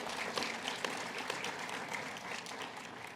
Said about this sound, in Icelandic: Við skulum klappa fyrir þessu.